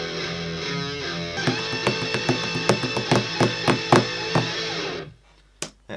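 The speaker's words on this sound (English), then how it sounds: "I actually want to use my telecaster for that" A slightly detuned Telecaster electric guitar plays a heavy metal riff, loud distorted chords followed by a run of rhythmic palm-muted chugs. It cuts off abruptly to near silence, with one short pick noise after.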